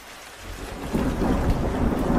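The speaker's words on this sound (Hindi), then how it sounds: "रास्ते में बारिश शुरू हो जाती है" Steady rain with rolling thunder during a storm, a broad wash that swells louder partway through and stays heavy, with low rumbles underneath and no voices.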